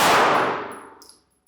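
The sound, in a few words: gunfire hitting steel targets during shooting drill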